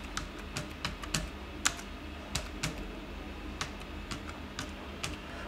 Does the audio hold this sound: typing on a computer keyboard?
yes